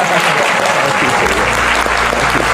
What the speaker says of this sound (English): So maybe by a round of applause.